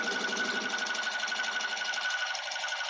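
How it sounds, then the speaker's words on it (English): A sewing machine stitches through a tote bag strap, running in a steady fast mechanical whir with rhythmic needle clatter, close and continuous. "So we're going to sew through this."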